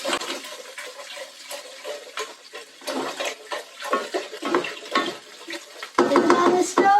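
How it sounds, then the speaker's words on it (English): Water pouring in uneven glugging bursts into a pot for French onion soup in a home kitchen, with a louder, steadier gush near the end. "Keep glugging, glug."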